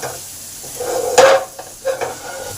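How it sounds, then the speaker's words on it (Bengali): Tomatoes frying in a pan with cumin powder and spices, a soft sizzle with brief stirring bursts close by, no talking. "এই সব টমেটোর সাথে ভালো করে ভেজে নেব"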